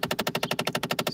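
Rapid repetitive clicking from a car's actuator, sharp close-up ticks repeating roughly ten times a second at a steady pace with no talking.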